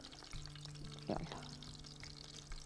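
Stuffed intestines (mombar) frying in hot oil, a steady close sizzle with a stir or shift around the middle, no talk.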